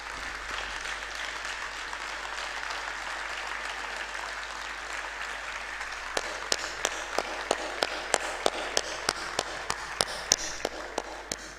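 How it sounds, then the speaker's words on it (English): Steady audience applause rises for a guest speaker at a university convocation lecture, with a wash of many hands clapping; toward the end, sharper distinct claps ring out clearly over the crowd. "give a thunderous applause to our guest speaker"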